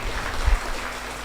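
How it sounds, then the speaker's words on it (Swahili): A church congregation claps during a worship service, a short burst of dense, fairly loud applause that fills the room briefly. "Tumpigie Bwana makofi."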